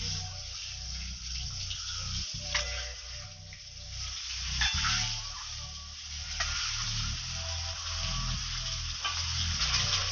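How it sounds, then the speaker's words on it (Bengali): Duck eggs fry in hot oil with a steady close sizzle and crackle, punctuated by occasional utensil clicks; no one speaks. "দেখো ডিমটা ভাজা হয়ে গেছে,"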